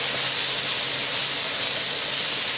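Chicken sausage and tomatoes sizzling in a camp skillet outdoors, a steady, dense frying hiss that holds evenly throughout, close and fairly loud with no talking.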